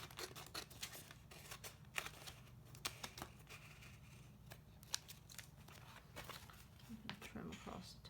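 Short snipping cuts from scissors or a blade trimming a multicolored vinyl decal sheet, removing registration boxes, come as scattered sharp clicks and rustles at close range over a low steady hum, with a person talking now and then.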